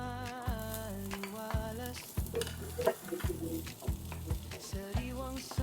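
Garlic and onion sauté in a pan for a chicken and squash dish, giving a soft continuous sizzle and stirring scrape under steady melodic background music.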